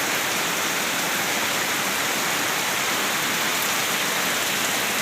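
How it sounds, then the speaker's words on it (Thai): Heavy evening rain at a home in Thailand during flooding, a dense steady hiss of downpour, loud and even throughout with no voices. "ฝนตกลินลงเรื่อยนี่นะ"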